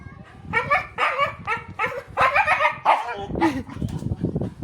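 A dog barks repeatedly and excitedly, close and loud, in rapid bursts with some yips and whimpers mixed in, at a home gate where other dogs are said to come and fight.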